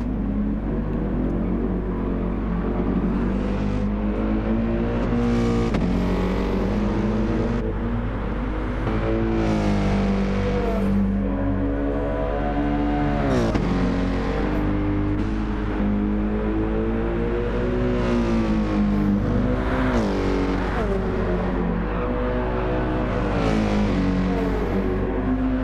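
Race cars in Gran Turismo 7 on Trial Mountain drone continuously, engines rising and falling in pitch as they accelerate and shift through a long stretch of steady, loud racing.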